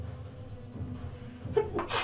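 A single close sneeze bursts out after a quiet stretch with a faint intake of breath before it.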